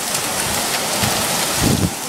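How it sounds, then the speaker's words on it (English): Hail pours down in a dense, steady hiss of pelting ice on surfaces, loud and close, with a few heavier low thumps mixed in and no voices. "Okay, yeah, that was hail."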